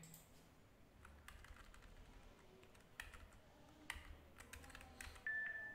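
Fingers type entries on a computer keyboard, a quiet, close run of irregular clicking keystrokes with brief pauses and a few sharper taps, no voices.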